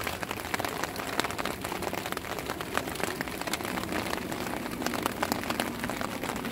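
Rain falls steadily on a tent during a storm, a dense, even patter of drops close by with no talking.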